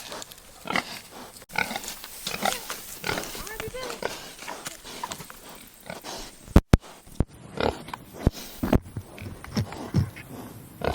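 Pigs lying in shaded mud, grunting and oinking repeatedly in short irregular bursts, close by, while a person talks over them.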